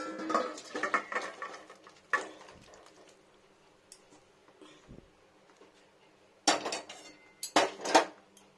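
Vegetable curry is poured into a bowl with scattered clinks and scrapes of metal utensils and dishes, bursts of clatter at the start and end separated by quieter pauses, with no talking.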